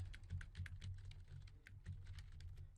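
Someone types a message on a computer keyboard, a quiet, close run of quick uneven key clicks with no talking.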